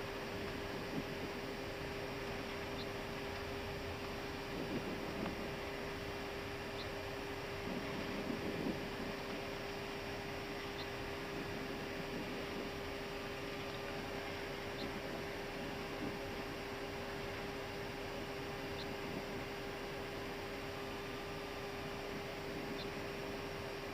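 Steady broadband engine and air roar inside an Airbus A320 cockpit lined up for takeoff on runway 05 at Funchal, Madeira, a constant loud rumble with faint regular beeps and no clear speech.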